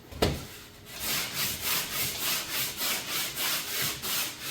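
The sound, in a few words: sanding drywall compound by hand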